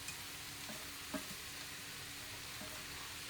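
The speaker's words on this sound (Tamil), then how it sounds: "வச்சுருக்கிற கீரையை போட்டுக்கிறேன்." Greens are tipped into a hot frying pan with chicken and vegetables and stirred, giving a steady faint sizzle with a few soft scraping clicks of the spoon.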